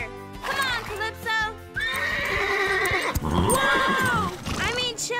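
Cartoon horse neighs and whinnies loudly, with hooves clip-clopping in a rhythmic gallop, over background music and under people talking, in an animated horse-riding show.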